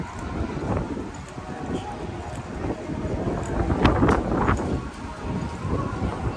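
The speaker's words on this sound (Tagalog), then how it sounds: "Mahangin guys." Gusty wind at Manila Bay buffets the microphone in a steady low rumble that swells and eases throughout.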